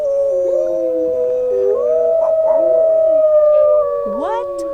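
Several wolves howl together in long, overlapping sustained tones that rise and bend, close and loud, with a brief excited voice nearby.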